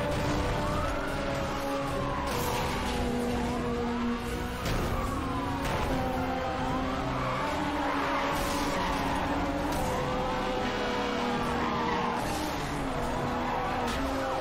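Police car sirens wail in the racing video game Need for Speed: Hot Pursuit Remastered, several overlapping rising and falling tones running continuously alongside engine roar and tire noise.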